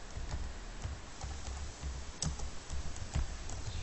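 Typing on a computer keyboard while filling in an online form, a quiet run of irregular key clicks with a few sharper taps, heard close and alone.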